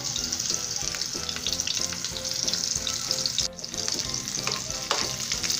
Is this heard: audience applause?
no